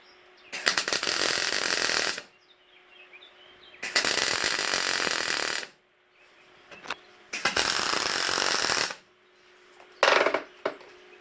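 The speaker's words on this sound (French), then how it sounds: "Voilà la soudure point par point" Telwin MIG 180A welder tacking a 90-degree joint, with four harsh crackling bursts of arc welding, each lasting one to two seconds and separated by short pauses, loud and close with no speech.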